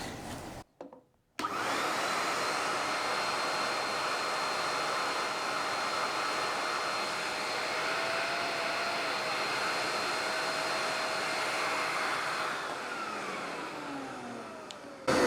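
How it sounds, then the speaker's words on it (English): A Camvac dust extractor switches on with one motor and runs at a loud, steady roar and whine for most of the time before spinning down near the end. "turn on one motor, measure the wind speed"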